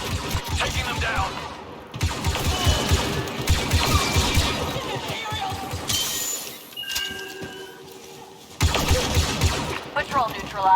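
Rapid blaster fire crackles through a Star Wars Battlefront II firefight in long sustained bursts, with short pauses and some mechanical clatter between volleys, close and fairly loud.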